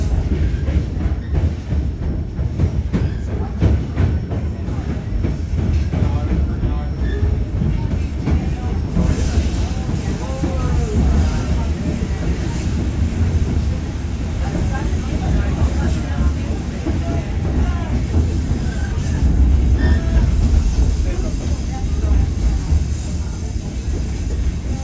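A White Pass railroad excursion train rumbles along a mountainside with steady low clatter and rolling wheel noise, while people talk throughout over the continuous rumble.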